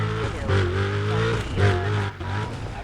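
Police car in the video game Need for Speed: Undercover charging straight at the player, its engine droning loud and close with rising and falling revs and a brief tire squeal, with no voices over it.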